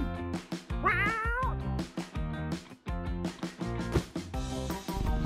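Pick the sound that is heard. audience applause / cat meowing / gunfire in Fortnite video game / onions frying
cat meowing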